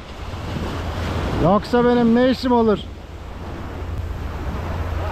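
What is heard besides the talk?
sea waves breaking on shore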